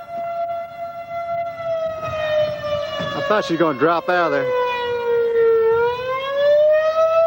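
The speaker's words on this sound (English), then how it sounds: "Well, our sirens work anyway." A loud, steady wail of outdoor civil defense tornado sirens rising and falling, while a person talks briefly over it partway through.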